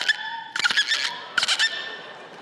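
A person imitates a dolphin with a voice, producing high squeaky whistles and chattering clicks in two or three short bursts, fairly close and loud, with no other talk.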